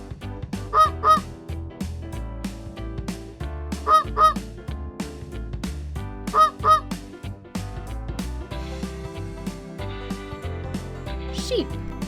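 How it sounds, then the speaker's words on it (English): A goose honks in three paired bursts spaced a few seconds apart, loud and close over a bouncy children's music backing track. "Goose."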